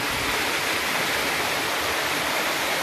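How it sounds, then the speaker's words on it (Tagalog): Stream water flows steadily in a creek at close range, a dense, continuous broadband rush with no voices and no pauses. "Ito, nasa gitna tayo ng sapa."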